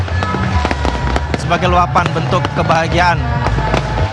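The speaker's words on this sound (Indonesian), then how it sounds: "ini adalah suara petasan yang kembali dinyalakan" Firecrackers crackle and pop in rapid, dense volleys at a Persija Jakarta football victory parade from Senayan to city hall, loud and continuous over crowd noise, with a reporter speaking over them.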